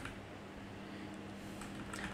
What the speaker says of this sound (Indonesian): biasanya kalau misalkan kita ngetik gitu ya, ngetik biasa